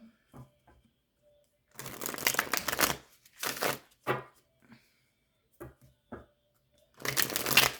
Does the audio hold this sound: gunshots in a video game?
no